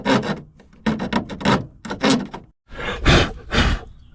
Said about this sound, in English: Instead of going crazy with a Sawzall, do the next best thing. Sawzall blade, handsaw.